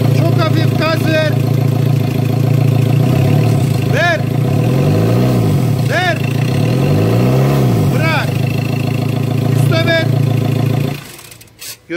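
Ford Transit diesel engine idling loudly nearby while receiving several light, brief throttle blips that swell and fall with turbo whistle, before the engine noise cuts off abruptly near the end.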